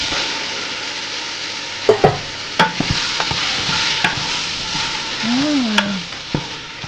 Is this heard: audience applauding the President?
no